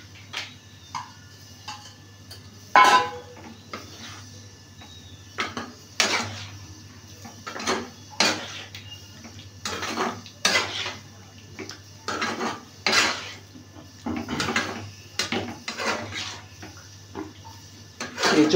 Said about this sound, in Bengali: এটাতে এবার ভেজে রাখা আলু আর এঁচড়গুলো